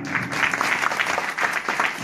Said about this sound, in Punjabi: ਹੋਰ ਦੂਜੀਆਂ ਤਾੜੀਆਂ ਮਾਰ ਦਿਓ ਉਹਨਾਂ ਘਰ ਵਾਲਿਆਂ ਦੇ ਨਾਂ ਦੀਆਂ